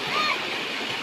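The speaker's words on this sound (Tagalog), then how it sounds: "Ang lakas pa ng agos, eh." Strong river current rushing past a makeshift crossing in rural Barangay Calawis, Philippines, a steady broadband wash of moving water heard close and continuous, with a faint voice briefly under it.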